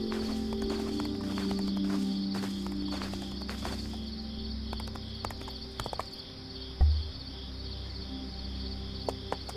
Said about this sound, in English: Why do I have a horse if I'm not gonna use it?